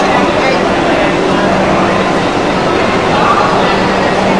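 An Indian railway locomotive stands at platform 21 beside the first coach, a loud steady engine rumble with a constant drone and station noise, and a voice talks over it.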